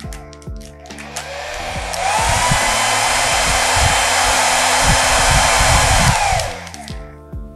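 A Philips HP 8126 hair dryer switches on at its highest of three speeds and roars at full blast with a strong, steady rushing airflow for several seconds, then cuts off; loud and close.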